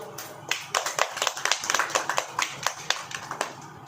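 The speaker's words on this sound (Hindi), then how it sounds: "ताली बजाइए, ताली ताली।" A church congregation claps hands during worship, a dense run of sharp claps in an irregular rhythm at moderate, room-filling level, with no talk over it.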